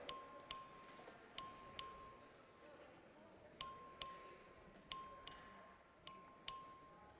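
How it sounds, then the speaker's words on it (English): A small bell rung by the clerk in the Texas House chamber during a recorded vote, struck in clear pairs of bright, ringing dings with short decays, repeated several times against quiet room ambience. "Clerk, ring the bell."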